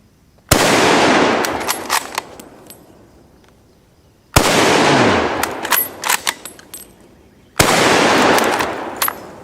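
Three sharp, loud Mauser Kar 98K rifle shots are fired at a target outdoors, spaced several seconds apart. Each crack is followed by a rolling echo and brief metallic clatter from working the bolt.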